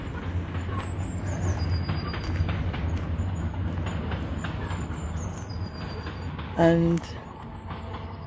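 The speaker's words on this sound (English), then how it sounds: "There's a train now trundling along." A train trundles past near a park at Gartnavel, a steady low rumble with rail noise running throughout, a brief louder squeal or horn-like tone near the end, and a person speaking a word over it.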